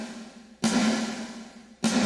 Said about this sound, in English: So this is just the snare sample without any verb